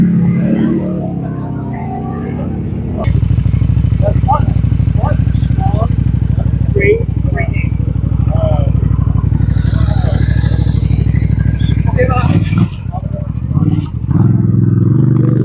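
Chinchilla 250 motorcycle engine running at a motorcycle factory in China, a steady close-up rumble that steps up in loudness partway through, with clatter and brief revs, while voices talk over it.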